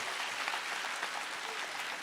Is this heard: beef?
no